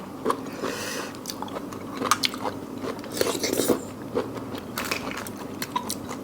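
Crunchy bites and wet chewing of giant blood cockles with dipping sauce, close and irregular with sharp crunch bursts, no talk.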